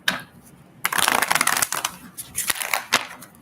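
A deck of tarot cards is shuffled close up in quick riffling bursts with soft slaps and flutters, followed by a few sharper card snaps.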